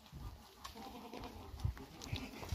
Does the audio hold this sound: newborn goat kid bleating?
yes